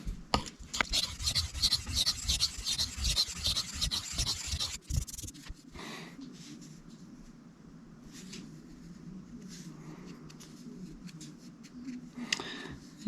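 A Cold Steel 4 Max Scout knife blade is sharpened on a Shapton 1000 whetstone, giving rhythmic rasping strokes for the first five seconds, then quieter, sparser scraping.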